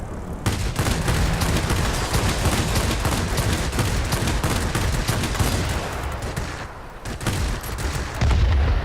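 Aircraft guns hammer continuously in World of Warplanes, an I-250 or La-9 fighter firing in a long, dense, sustained burst with only a brief break near the end, loud and close.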